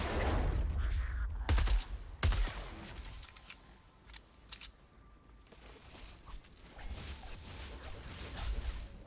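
Gunfire at a straw man in Fortnite Save the World: a few sharp, loud shots crack near the start, then the scene settles into quieter ambient rustle and faint scattered clicks.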